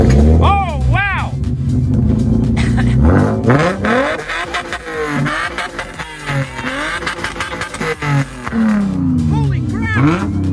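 A Datsun 521 pickup truck roars through a loud exhaust, revving up and dropping back in repeated swells that start low and climb sharply. Voices shout and talk over the engine.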